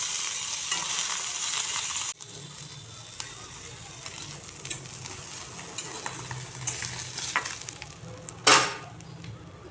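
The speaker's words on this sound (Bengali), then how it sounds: "এরকম হালকা ফ্রাই করে নিচ্ছি।" Chapila fish, a small river fish, lightly frying in a pan over a low gas flame, giving a steady soft sizzle with occasional stirring clinks and a louder burst near the end.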